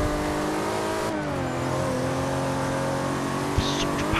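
Car engine in the Forza Horizon 2 racing game revving hard, a sustained droning whine that dips and then climbs again, with a sharp knock near the end and someone talking over it.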